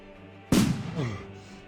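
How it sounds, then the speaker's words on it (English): Silver Shot gunshot attack in the video game Black Legend: a single sharp, loud blast that bursts after a brief quiet lead-in, followed by a short ringing, crackling tail that fades over about a second. "I'm going to use Silver Shot."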